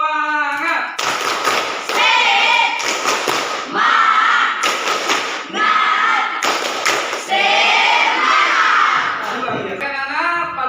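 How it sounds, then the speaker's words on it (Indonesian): A classroom of schoolchildren chants the 'tepuk semangat' routine in unison, with loud rhythmic claps punctuating the sung words in regular bursts. "Tepuk semangat."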